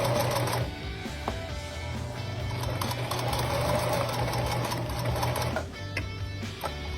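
A sewing machine stitches face mask fabric in steady rapid bursts, its close mechanical chatter running continuously with a brief pause, quiet and alone.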